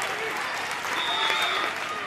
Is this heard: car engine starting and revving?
no